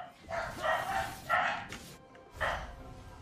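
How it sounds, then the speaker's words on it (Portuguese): A neighbour's dog barks somewhere off at a distance, a few faint, muffled woofs spaced irregularly over a few seconds. "Pior que é o cachorro do vizinho latino"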